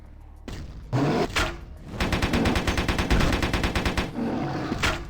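Rapid automatic gunfire from an unstable weapon in the game Vampire: The Masquerade – Bloodlines. A few heavy single shots come first, then a loud, sustained stream of evenly spaced bursts, and a final isolated shot.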